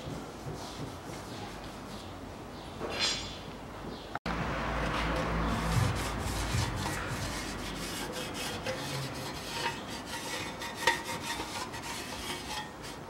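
Rag wiping to degrease the engine block and oil pan of a 2003 Toyota Caldina: quiet irregular rubbing and scuffing, a few faint clinks of metal, recorded close in a workshop.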